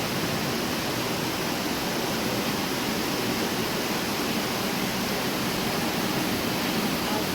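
Water rushes in a dense, continuous roar through the opened sluice gate of a creek sawmill, loud and steady throughout with no voices.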